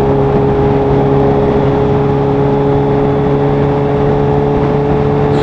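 A Kawasaki H2 motorcycle engine holds around 4,000 rpm, a loud, close, continuous drone that stays level without rising or falling.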